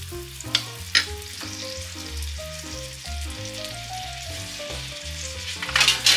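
Pork fillet sears slowly in butter in a pan, giving a steady, gentle sizzle with occasional sharper pops, heard beneath background music.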